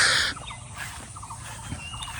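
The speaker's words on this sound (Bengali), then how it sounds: "এইখানে 3টা হাঁস আছে।" Three ducks call in a poor riverside char village in Numberpara union, with a loud burst of calls at the start followed by scattered quieter calls against steady outdoor background noise.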